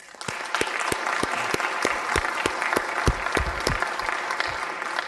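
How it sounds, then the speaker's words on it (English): A room full of people at a city council meeting applauds, the sustained clapping mixed with a few distinct, sharp nearby claps across several seconds. "one more round of applause"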